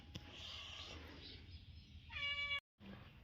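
A single faint cat meow, high and drawn out, rises over a quiet noisy background of household rumble, followed by a brief dropout.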